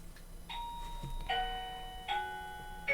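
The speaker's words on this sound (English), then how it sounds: "Doorbell?" An indoor doorbell chiming in a few separate ringing tones, fairly faint under a quiet background.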